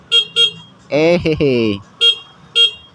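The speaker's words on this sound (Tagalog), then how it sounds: "So busina check nga natin." An FKM Venture ADV 180 motorcycle's horn gives one sustained, loud, harmonically rich honk of about a second, broken by a brief dip. Short, higher electronic beeps sound before and after it.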